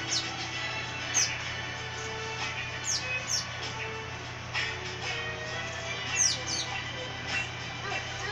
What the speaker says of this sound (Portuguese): não deixa de fazer o que ele mais gosta. Piar e cantar.